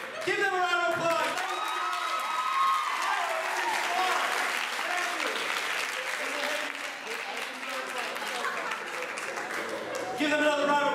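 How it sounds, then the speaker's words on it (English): Audience applause at a hypnosis show at a college orientation event, steady dense clapping that fills the room for the whole stretch, with voices speaking over it near the start and end. "Give them a round of applause."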